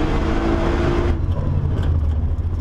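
A Nissan R35 GT-R Nismo engine revs hard on a Nürburgring lap in third gear, a loud, close, continuous roar that dips in tone after a second with rushing wind noise throughout.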